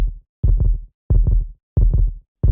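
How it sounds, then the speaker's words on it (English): A heart beating in steady time, heard as four deep, booming low thumps, each a rounded double-pulse swell, evenly spaced with short silences between, close and alone. "It is the sound of a heart beating in time."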